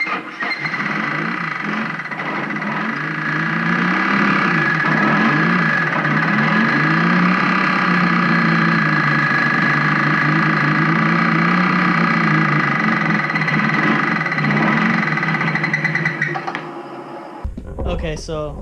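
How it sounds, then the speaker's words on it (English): Nissan 240SX engine running on its first start during a garage build, with valve tapping, a steady close idle that drones for about seventeen seconds before cutting off abruptly. "after the first start, when you heard the tapping sound, I shut it off"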